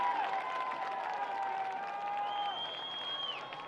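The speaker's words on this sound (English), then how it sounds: "Big round of applause for Halftime here" Crowd applause in the stands at a varsity high school football game, West Wolverines against Fayetteville Bulldogs, a distant steady clapping heard through the game-day ambience.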